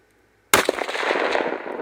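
Rifle gunshot during a hunt, a single loud sharp crack close by after silence, followed by a long rolling echo and reverberation that fades slowly.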